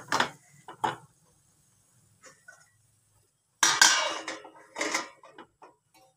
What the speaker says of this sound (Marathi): आता झाकण ठेवायचं आहे आपल्याला याच्यावर